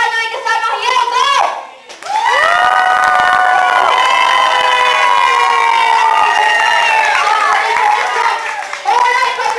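Group of guests at a child's first birthday party clapping and cheering loudly together, a sustained burst of applause and shouting voices filling most of the moment after a brief lull, with children's voices mixed in.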